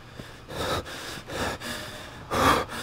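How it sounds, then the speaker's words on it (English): Heavy, labored breathing from the King Kong video game character, a handful of loud gasping breaths in an uneven rhythm, close and alone with no talk. "Back to my character breathing heavily."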